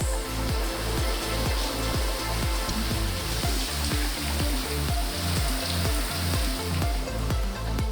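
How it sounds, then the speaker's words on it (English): Simulated rain pours steadily onto the roof of a Scamp 13 fiberglass camper during a factory shower test, a loud constant wash with a regular low pulsing thump underneath. "we just got done with a 15-minute shower where it just rained on top of this camper"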